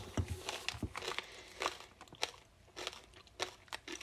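Crunchy chocolate-covered snacks are chewed close to the mic, with irregular crisp crunches and crackles spaced through the stretch, each bite sharp and brief.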